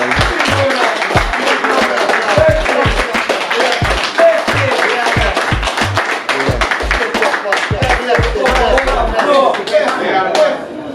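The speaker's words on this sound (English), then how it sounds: "So we give them a round of applause as well." A crowd at a community gathering in Trench Town, Kingston, claps in a loud, rhythmic burst of sharp hand claps with deep thumps, mixed with voices throughout.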